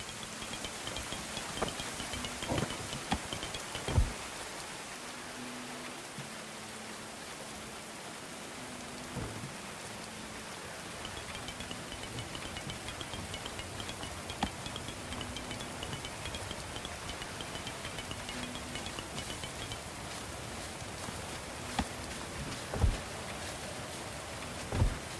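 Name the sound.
rain falling in the video game Going Medieval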